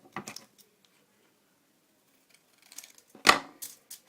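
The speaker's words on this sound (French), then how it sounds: "quand vous coupez votre papier de carambar pour le mettre dessus" Scissors snipping Carambar candy wrapper paper for a Fimo polymer clay craft: a few crisp, close cuts separated by a quiet pause, with no voices.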